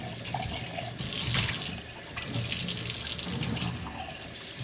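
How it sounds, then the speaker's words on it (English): Tap water running into a sink while an electric espresso maker's strainer is rinsed: a continuous splashing flow with shifting surges as the water hits the metal parts, no voices. "Rinse there. And then give this a little rinse out here too."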